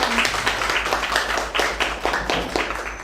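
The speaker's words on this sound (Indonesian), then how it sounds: "Kita beri tepuk tangan." A classroom audience claps for a student group's presentation in a teaching workshop, with sparse, rhythmic hand claps close by and a low hum beneath.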